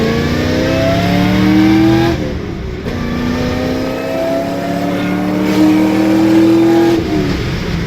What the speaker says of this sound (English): You hear the supercharger boosting all along.